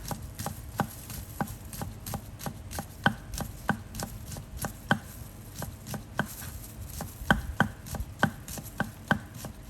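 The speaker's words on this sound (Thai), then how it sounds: "จากนั้นเราก็จะมาหั่น ถั่วฝักยาวนะคะ" Rapid, steady knife chops cutting yardlong beans into small pieces on a cutting board, many sharp evenly spaced taps close by, with a low background hum and no talking.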